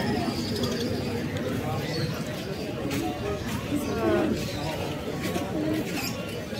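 Pigeons coo and flutter at a busy pigeon market in Serampore, faint beneath constant crowd chatter and nearby talking voices.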